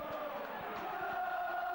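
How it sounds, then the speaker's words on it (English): A stadium crowd at a Hull versus Widnes rugby league match roars and cheers Hull on, a distant, sustained swell of many voices with a steady, rumbling texture. "And the crowd getting behind them,"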